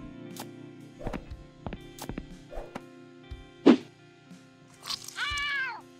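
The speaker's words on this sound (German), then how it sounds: "Ich fürchte, der Katze hat die Dusche gar nicht gefallen." A cartoon cat in the point-and-click game Randal's Monday, soaked after a shower, lets out a sharp yowl and then a drawn-out wavering meow, amid scattered game thumps and a low steady background drone.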